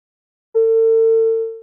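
Telephone tone on a live broadcast after a caller's line drops, a single steady electronic beep lasting about a second, loud and clean against silence.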